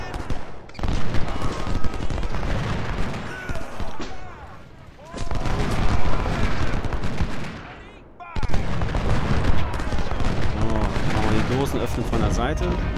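Cannon and gunfire from the Civil War strategy game Ultimate General, at the Battle of Cold Harbor: dense booming volleys and crackling shots fill the whole stretch, dipping briefly twice before surging back, with a voice talking over the battle.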